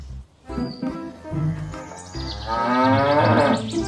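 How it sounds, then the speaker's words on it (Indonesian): A toy dancing cow lets out a drawn-out electronic moo that swells in loudness, mixed with music-like tones and chirpy toy sounds, close and clear. "Sapi joget juga ada."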